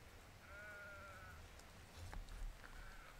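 Sheep bleating on a cold, sub-zero mountainside: two drawn-out, fairly faint bleats with a pause between them, over a low rumble of wind and handling noise.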